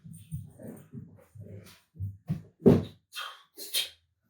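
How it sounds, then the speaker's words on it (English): Dogs outdoors let out a string of short yips, whimpers and barks in uneven bursts, some sharp and close, with a brief sniff-like noise between them. "the dogs are going nuts out there"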